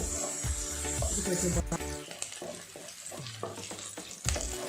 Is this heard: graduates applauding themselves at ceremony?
no